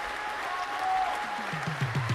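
Studio audience applauding quiz contestants on a movie trivia show, a steady wash of clapping throughout, moderately loud and close, with no talk over it.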